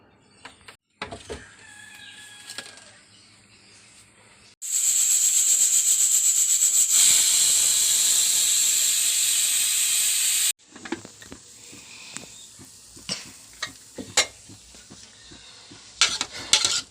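A pressure cooker holding lentils, ash gourd and mango releases a loud, steady jet of hissing steam for several seconds, framed by quieter kitchen clatter and small knocks before and after.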